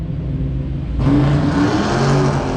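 A go-kart engine revs and drones steadily while driving, loud and close, with a rough tractor-like note that grows fuller and brighter partway through as the throttle opens, with no talking.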